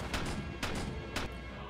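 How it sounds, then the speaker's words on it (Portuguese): Bursts of gunfire in the World War I mode of the shooter game Ravenfield, three sharp broadband cracks spaced about half a second apart over a steady battle rumble. "tem alguém dando muito tiro"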